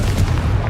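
A Confringo fire spell bursts in Hogwarts Legacy, a short, dense, booming blast with a heavy low rumble that fills the whole moment.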